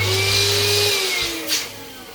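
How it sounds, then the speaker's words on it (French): Electric balloon inflator filling a 7-inch Qualatex latex balloon, a steady motor whir and rush of air that runs for about a second, then cuts off, followed by a brief softer puff. "venir gonfler donc nos 4 derniers ballons"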